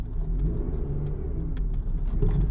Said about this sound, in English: There is a bit of a bearing noise going on when I accidentally over-revved.